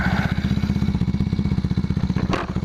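A 1981 Yamaha XS400 Heritage motorcycle idles on choke while warming up, its engine pulsing in a fast, even, lumpy beat, close and steady, with a short rising blip near the end.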